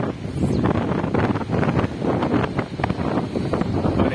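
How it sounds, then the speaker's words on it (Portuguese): Strong gusty seaside wind buffets the microphone continuously on a platform at Cibratel beach, Itanhaém, Brazil, a loud roaring rumble with rustling, and no one speaking. "Deve estar ventando aí pra vocês também, né?"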